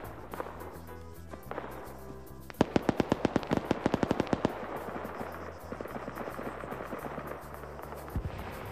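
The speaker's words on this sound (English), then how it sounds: "Lolo can hear the BTR firing" Rapid bursts of gunfire from a BTR armoured vehicle in a video game battle: a sharp run of loud, evenly spaced cracks in the middle, with scattered distant shots and battle rumble before and after.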